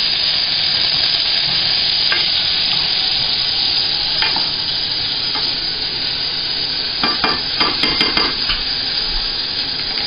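Chorizo and onion sauté in a hot pan with a steady, loud sizzle throughout, broken by scattered scrapes and clinks of stirring toward the end.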